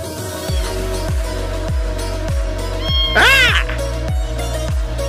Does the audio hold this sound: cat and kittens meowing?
yes